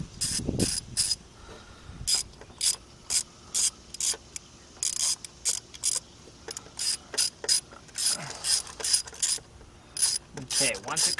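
A ratchet wrench clicks in short repeated bursts while loosening a spark plug on a 2009 Jeep Patriot, the close, sharp pawl clicks coming in steady strokes with brief pauses between them.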